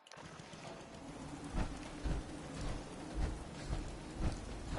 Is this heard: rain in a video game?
yes